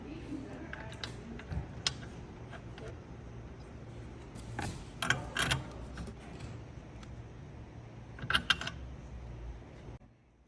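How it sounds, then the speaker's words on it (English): A spark plug wrench turning a new spark plug into an engine during an ignition coil replacement, heard as close, faint ratcheting clicks and scraping metal taps in short irregular groups over a quiet hiss. "using spark plug wrench. Install your new spark plug."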